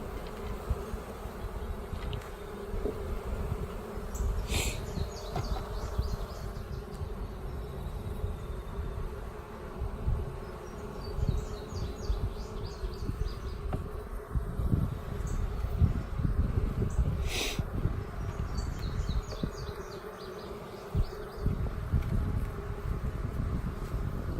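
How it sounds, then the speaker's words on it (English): Honeybees from an open hive during an inspection drone and buzz continuously close by, a dense hum with individual bees zipping past now and then, and no voices over it. "And bees are kind of getting a little ticked off at me"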